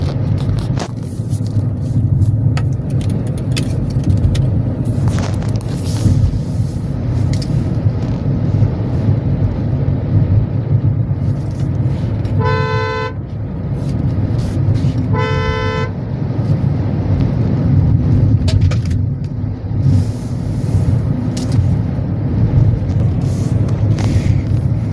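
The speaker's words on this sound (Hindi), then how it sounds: "आंधी काफ़ी तेज़ है, गाड़ी के अंदर है तो यहाँ पे भी हवा तो सुन ही रही है आप लोगों को।" A strong dust storm heard from inside a car on a road near Kharkhoda, outside Delhi: a constant low roaring rumble of wind against the vehicle, broken twice by short horn toots midway.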